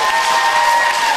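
Applause and cheering from an audience for a group of young men who sang, a dense steady wash of clapping filling the whole short moment with no pause.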